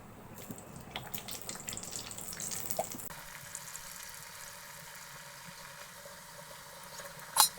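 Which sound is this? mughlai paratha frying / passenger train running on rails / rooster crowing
mughlai paratha frying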